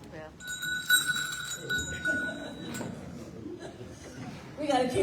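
A bell rings out with a sustained, steady metallic tone at a Chicago 6th Ward aldermanic election forum, then fades, while people talk and murmur in the room around it.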